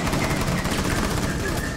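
Rapid burst of gunfire in a competitive video game match, dense and continuous, loud and close throughout with no pauses.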